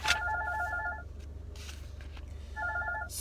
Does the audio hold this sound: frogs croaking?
no